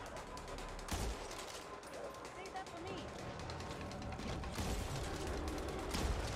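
A sniper rifle fires in the co-op zombie shooter Back 4 Blood during Swarm mode, sharp shots standing out from dense, constant gunfire and clattering mechanisms, with talk occasionally underneath.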